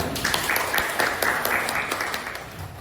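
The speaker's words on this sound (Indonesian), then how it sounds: "kasih tepuk tangan" Applause from a classroom of children after a fractions lesson, a steady patter of many hands clapping at moderate loudness, no voices over it.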